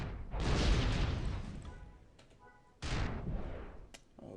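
Cluster bomb going off in the game Star Wars Galaxies: two heavy booming blasts with rumbling decay, the second following a brief lull, no speech.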